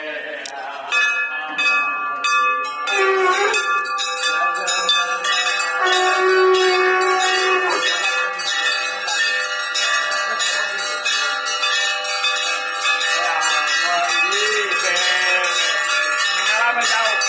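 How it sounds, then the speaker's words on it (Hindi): A bell rings repeatedly in bright, sustained metallic tones during a Hindu Devi Bhagwatam recitation for Chaitra Navratri, heard steadily throughout, with voices chanting alongside. "घंटी बजाओ"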